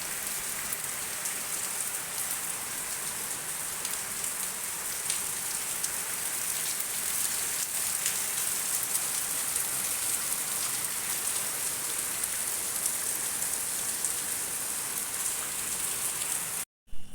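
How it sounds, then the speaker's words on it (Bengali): Heavy rain pours down on a cloudy afternoon, a dense, even hiss of drops on surfaces that holds steady for a long stretch before cutting off abruptly at the end. "আর প্রচুর জোরে বৃষ্টি নেমেছে"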